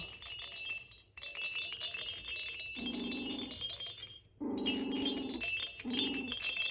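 Small yips and whimpers from three-week-old puppies come in short bursts, fairly close, over a steady rattling background, with a couple of brief pauses between calls.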